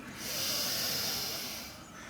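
A deep, steady inhale during Pilates lateral breathing hisses softly through the airways for about two seconds, then fades.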